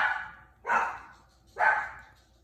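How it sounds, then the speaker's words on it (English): A dog barks twice, each bark loud and close, with a short gap between them and a quiet room around them. No one speaks. "my dog is over here barking like crazy"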